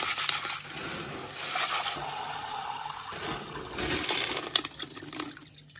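Tiger nuts prepared as carp bait are rinsed in water, with continuous sloshing and splashing that swells in waves, close by and with no talking.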